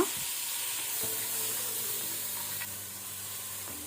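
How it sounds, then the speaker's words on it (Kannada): Cloves, cardamom and ginger garlic paste frying in a pan over a medium flame for a paneer matar masala gravy, a steady soft sizzle and hiss with faint low hum, continuous and close, no talk. "ಇದನ್ನೀಗ ನಾವು ಮೀಡಿಯಂ ಫ್ಲೇಮಲ್ಲಿ ಒಳ್ಳೆ ರೀತಿ ಫ್ರೈ ಮಾಡ್ಕೊಳ್ಳುವ."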